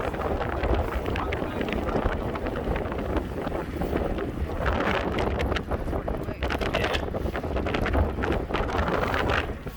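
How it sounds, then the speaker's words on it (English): Steady wind roars and buffets the microphone on a boat on a lake, a continuous rushing blow with gusts, no clear talk. "Oh, it's getting windy."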